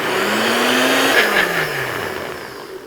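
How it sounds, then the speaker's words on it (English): A blender whirs steadily as it purees spinach leaves with milk for green crepe batter, its motor pitch shifting slightly midway, running loud and alone throughout. "we'll just screw on our lid and let that mix until we don't see any more little leaf chunks"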